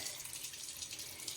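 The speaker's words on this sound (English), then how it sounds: "There's a waterfall tap there." Water pours steadily from a waterfall tap in a modern bathroom at a game reserve lodge near Cape Town, a continuous close hiss at even loudness with no voices.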